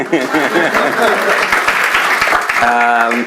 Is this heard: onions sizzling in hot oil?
no